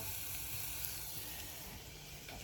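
Chicken livers sizzle softly in butter in a pan over medium heat, a faint, steady frying hiss that runs unbroken with no voices.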